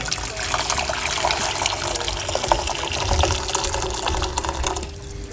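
Hot water pours steadily from a kettle into a pot for a cucumber lemon detox infusion, a close, continuous splashing gush lasting a few seconds before tapering off.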